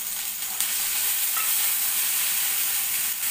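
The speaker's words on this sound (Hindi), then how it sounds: "प्याज थोड़ा सा ट्रांसपेरेंट हो जाती है, गोल्डन हल्की हल्की हो जाएगी, तो हम इसमें डालेंगे टमाटर।" Onions and tomatoes frying in a pan for poha, with a constant loud hiss of sizzling and brief faint clinks of stirring, with no voices.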